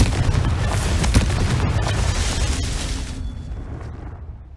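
A Confringo fire spell explodes in the Hogwarts Legacy video game, a loud booming blast that rumbles and crackles for a few seconds before fading out, with no voices.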